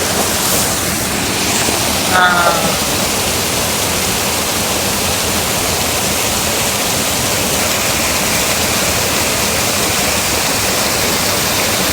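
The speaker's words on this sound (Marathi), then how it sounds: "त्या बंधाऱ्यावर पाणी वाहत आहे एखाद्या धबधब्यासारखं" Water pours over a weir at Gondavale like a waterfall, a loud, dense, continuous rushing roar that stays even throughout, heard up close with no voices.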